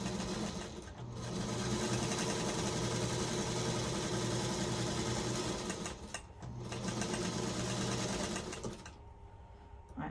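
Sewing machine stitching quilt fabric, running in a steady close whir for most of the span with a couple of brief pauses and a stop near the end.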